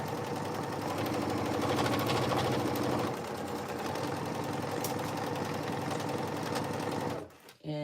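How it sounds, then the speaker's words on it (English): Up close, a sewing machine stitches a seam on cargo pants with a steady rapid whir, easing and shifting pace partway as it backstitches, then stopping abruptly near the end. "when you start stitching, you want to also make sure that you backstitch just a little bit to reinforce the seam"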